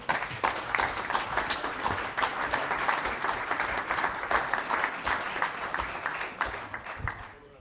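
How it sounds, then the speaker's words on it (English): Sustained applause in a council chamber at a Basingstoke full council meeting after a councillor's maiden speech, steady dense clapping from a modest group of people continuing throughout and tapering off at the end. "After that round of applause"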